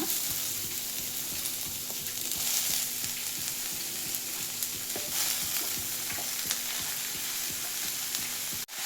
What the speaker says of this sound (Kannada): ಇದರೊಳಗೆ ಈಗ ಕಟ್ ಮಾಡಿದ ಎಲ್ಲ ಈರುಳ್ಳಿ ಎಲ್ಲ ಹಾಕೋಣ. ಎಲ್ಲ ಹುರಿಲಿಕ್ಕೆ ಹಾಕೋಣ.